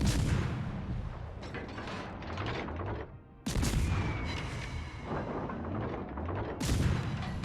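Naval gunfire from Kidd in a warship video game: a dense, loud barrage of booming shots and rumbling blasts, with heavy salvos at the start, midway and near the end.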